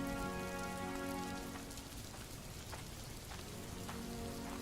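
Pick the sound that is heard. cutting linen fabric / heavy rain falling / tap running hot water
heavy rain falling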